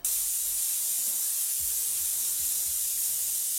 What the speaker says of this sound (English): We're going to take our dark color that we're using. We'll spray that right in.